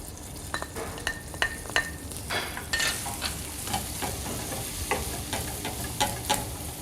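Onions frying and sizzling in a pan while being stirred, with a steady hiss and repeated scraping strokes and clinks of a utensil against the pan, close and moderately loud, no talking.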